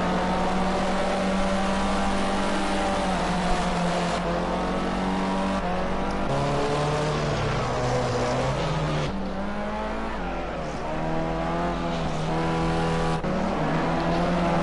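Formula C race cars in a 2019 NORL round howl past on a circuit with loud, continuous engine drones that rise and fall in pitch as they shift gears, with several cars passing in succession.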